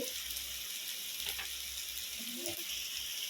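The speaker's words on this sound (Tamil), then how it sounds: "எண்ணெய் நல்லா பிரிஞ்சு நல்லா வதக்கிடுவோம்." Oil for a drumstick poriyal sautés in a pan with a soft, steady sizzling hiss, quiet and close, and a brief stir or clink partway through.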